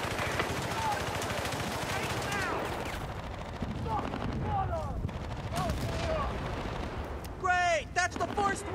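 Rapid machine-gun bursts and gunfire crackle through a Battlefield Bad Company combat scene, dense and continuous over several seconds, with shouted voices, whizzing shots and a sharper burst near the end.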